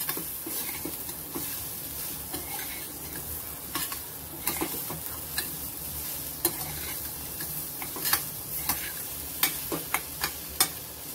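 Raw mango pieces are stirred into dal in a hot pan, giving a steady sizzle with scraping stir strokes and soft clinks, close and alone without talk.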